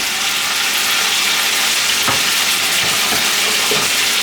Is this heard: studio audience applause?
no